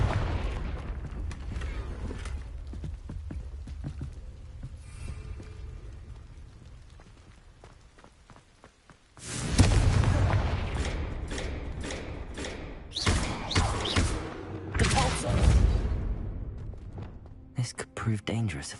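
Confringo fire spells blasting in the Hogwarts Legacy video game: a loud burst around the midpoint, followed by several more heavy blasts and crackling impacts over a low rumbling game backdrop.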